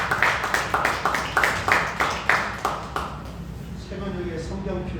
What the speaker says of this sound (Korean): 박수로 축하하고